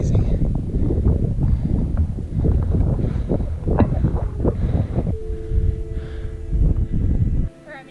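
Strong wind buffets the microphone on an exposed, sunny mountain trail in Maui, a steady loud rumble with gusts that runs almost the whole time and drops away at the end, and people talk over it.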